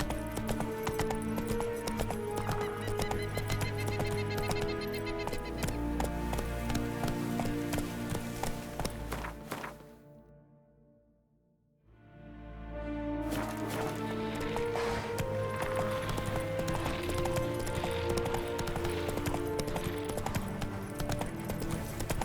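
A horse gallops in The Witcher 3 with steady rapid hoofbeats, close and loud. Midway the hooves drop out into a few seconds of near silence, then the gallop resumes at full pace.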